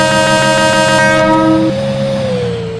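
A locomotive in the Indian Train Simulator game sounds loud and close with a sustained multi-tone horn and a rumbling engine. The horn's pitch drops and fades slightly toward the end.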